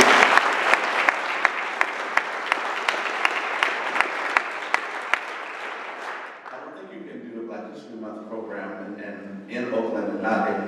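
An audience claps for a youth gospel choir from Oakland, a loud burst of applause with sharp individual claps that fades after several seconds as a voice starts speaking.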